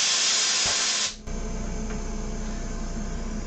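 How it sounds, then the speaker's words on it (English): Pressure draining from a medical air compressor makes a loud, steady, close hiss for about a second before cutting off abruptly. A quieter, continuous mechanical hum from the running compressor follows. "let's go ahead and drain some pressure off it, and let's see how loud it really is."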